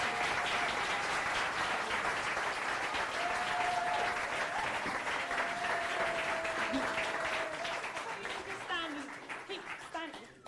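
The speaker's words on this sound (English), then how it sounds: "Stand and like just take the applause." Sustained audience applause at a sustainability forum in Folkestone and Hythe, dense steady clapping that carries on and then thins out toward the end, with faint voices and a few whoops over it.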